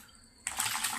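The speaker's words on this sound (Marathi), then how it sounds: "3 ते 4 पाण्याने धुवून घ्यायचं आहे." Water splashes over sliced elephant foot yam as it is rinsed in a kitchen. After a quiet start, a soft, close wash of running and sloshing water begins suddenly and continues.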